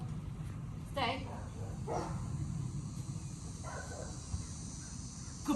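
A dog barks a few short, separate times during basic obedience training, with people talking and giving commands over a quiet outdoor background.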